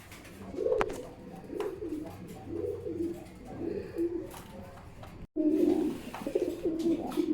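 Irani Huma pigeons, a pair kept at a pigeon farm, coo repeatedly in steady rolling phrases, close and moderately loud, with brief scuffs and a short gap partway through.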